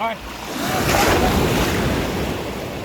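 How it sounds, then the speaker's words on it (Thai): Surf rolls in at a Thai beach with a strong wind buffeting the microphone, a continuous loud wash of breaking waves and gusty noise, with a brief voice right at the start. "ทะเล"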